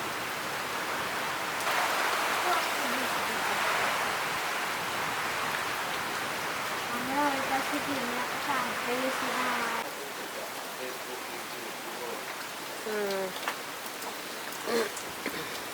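Steady rainwater dripping and pattering off an umbrella during a village rainstorm, a continuous wet hiss with brighter bursts, while people talk over it.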